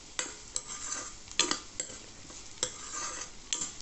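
Onions, garlic and curry leaves are stirred in a frying pan, with soft sizzling underneath and quiet, irregular scrapes and taps of a spoon against the pan close by.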